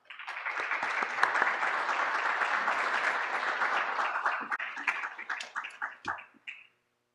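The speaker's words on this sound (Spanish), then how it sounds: "a quien recibimos nuevamente con fuertes aplausos" A large audience applauds a course graduate at the closing ceremony of training courses, with loud, dense clapping that holds steady for about five seconds before thinning into scattered claps and stopping.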